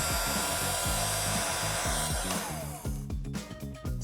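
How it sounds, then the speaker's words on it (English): A heat gun blows a steady, loud airflow hiss as it shrinks heat shrink tubing over a wire harness, holding even for most of the stretch before easing slightly with small dips near the end. "We chose to use the heat gun because we feel this is the best tool for the job."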